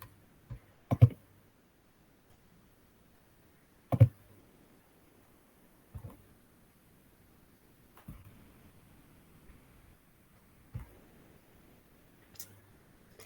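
Six sharp computer mouse clicks spaced a few seconds apart, faint and isolated against a quiet background, as someone clicks to import a plan in lighting configuration software.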